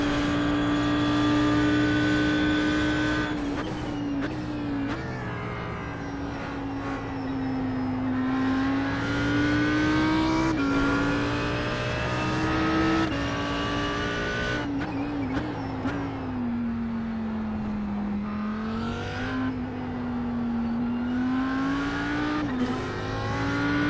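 An Audi R8 GT3 racing at Silverstone in iRacing roars steadily with its engine note rising and then dropping sharply through repeated downshifts, with bursts of throttle between bends, continuous and loud with no talking.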